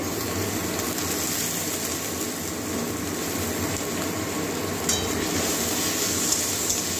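Chopped ginger and garlic fry in a pan for a paneer and soybean curry, giving a steady, close, even sizzle that runs unbroken with no talking.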